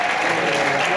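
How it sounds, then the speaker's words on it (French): A political gathering's audience applauds a senator warmly, a loud, dense wash of clapping from many hands, continuous and close throughout the brief moment. "Je vous demande de l'applaudir chaleureusement"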